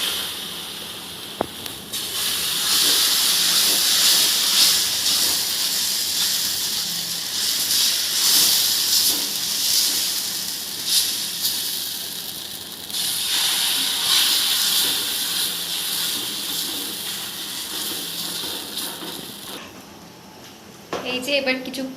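An oiled dosa tawa on the stove sizzles and hisses steadily as it heats, a loud continuous frying hiss that runs almost the whole time before cutting off near the end.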